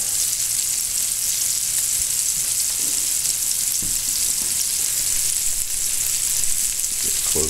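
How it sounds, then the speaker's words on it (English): Venison balls sear in a hot pan with a loud, continuous, close sizzle that holds steady throughout, with no one talking. "Let them sear up a little."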